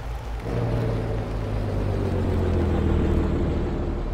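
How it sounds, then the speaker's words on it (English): A truck's Jake brake in Farming Simulator 17, a custom-added engine brake sound, gives a loud, steady low rumbling drone that holds evenly for about four seconds after a quiet start. "I love the Jake brake. Listen to this."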